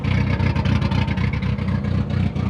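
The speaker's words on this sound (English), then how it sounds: "Love the chug though." A drift car's engine, just fixed of boost leaks and running a bit rough, chugs in a loud, steady rhythmic pulse close by, a lumpy low throb with no talk over it.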